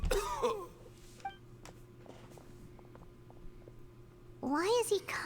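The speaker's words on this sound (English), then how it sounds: "Why is he coughing so much?" A character in the Genshin Impact story coughs in a few harsh, close bursts, with quieter background sounds between and a voice speaking near the end.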